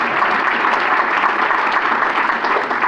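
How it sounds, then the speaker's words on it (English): Loud, close, dense clapping from an audience at a membership meeting, continuous and even throughout with no voices over it. "Please clap."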